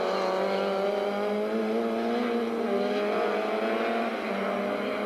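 Audi and BMW touring race cars at Kyalami in 1998 howl past at racing speed, one loud sustained engine note rising and shifting pitch as cars pass, close and continuous, with no speech.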